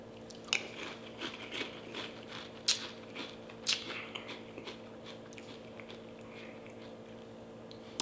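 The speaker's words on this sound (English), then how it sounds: "I'm gonna eat peanut butter right now" Close, quiet chewing of peanut butter, with a few sharp bites and sticky crunching sounds spread over a soft steady background hum.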